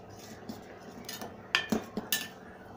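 A metal spoon mixes thickened rabri with a little yellow food colour in a pot, starting with soft scraping and then a cluster of four crisp clinks against the rim near the end.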